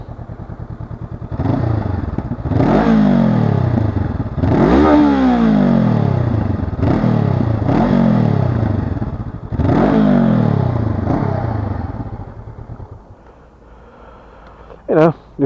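A 2020 Honda CB500F with a 500 cc parallel-twin engine revs repeatedly, five or six loud rising-and-falling blips in a steady rhythm, close by, with a brief clatter at the end.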